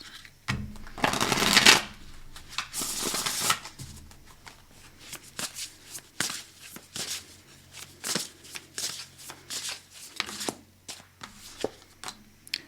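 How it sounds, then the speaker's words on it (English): Tarot cards are riffled and shuffled repeatedly, a bright papery burst followed by a series of quick snaps and taps, close and alone. "Let's shuffle that up again, please."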